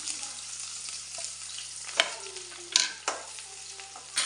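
Steady sizzling of chopped onions and curry leaves frying in hot oil, with a few sharp clinks and scrapes of a spoon stirring the pan.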